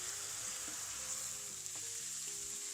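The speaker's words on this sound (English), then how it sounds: "Let the wine cook a few minutes so that all the alcohol evaporates before adding the tomato puree" Red wine cooking off in a pan of beef ragù, a steady, low hiss and simmer heard up close, with a few faint utensil taps and no voices.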